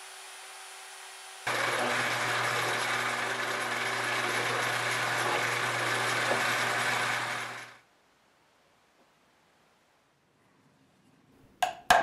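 A power drill and a Dremel rotary tool whir loudly together for several seconds while making a step drill, then cut off abruptly, leaving near silence and a couple of faint clicks.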